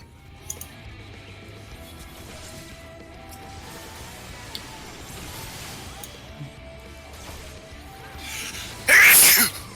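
A single loud, sharp sneeze bursts out near the end, over a quiet, steady background of video game sound.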